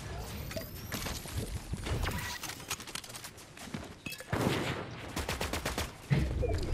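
Assault rifle fire in a video game: repeated sharp bursts of shots, some rapid, clustered throughout and near, with louder volleys toward the end and brief gaps between bursts.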